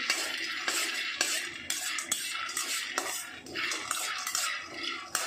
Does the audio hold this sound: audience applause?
no